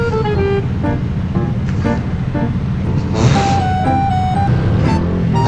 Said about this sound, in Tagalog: dito sa C5, sobrang traffic kaninang umaga